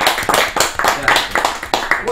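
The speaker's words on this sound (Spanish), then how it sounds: "Un aplauso para Dani." A small crowd at an evening rock show with a live band claps in a quick, steady rhythm of sharp bursts throughout the short stretch.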